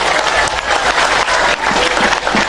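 A crowd at an Islamic religious gathering in Balapulang, Tegal, claps loudly and continuously, a dense, close burst of applause with small surges throughout.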